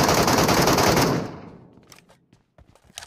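Loud rapid gunfire bursts in PUBG Mobile, a dense automatic stream for about a second that then fades into a few scattered, softer shots and clicks.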